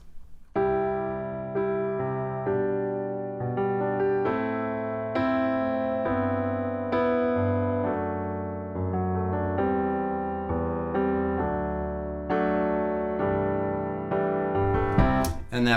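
A solo piano plays the verse of a song, with steady repeated block chords over low bass notes. Its phrases loop evenly, close and clear, with no talking.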